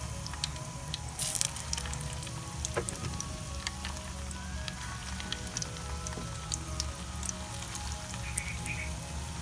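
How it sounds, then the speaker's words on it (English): Chocolate-filled bread frying in oil over a normal flame gives a steady sizzle dotted with sharp crackles and pops, close and continuous, with no talking. "Now let's fry one by one. Each side need to be cooked around 15 to 20 seconds."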